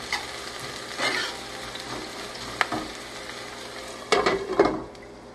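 Ingredients sautéing in a pan over a raised flame, a soft steady sizzle broken by a few sharp stirring scrapes and clatters near the end, fairly close and with no voices.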